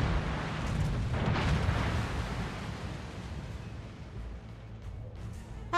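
A ship in World of Warships takes a torpedo hit, giving a loud, rumbling blast that swells early, then settles into a long churning wash of water and noise, with no talk.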